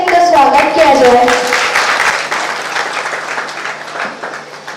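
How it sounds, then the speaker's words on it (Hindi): Audience applause welcoming a singer at a Good Friday gathering, a dense steady wash of clapping that starts loud and slowly tapers, with a voice speaking over the opening second. "तालियों से इनका स्वागत किया जाए"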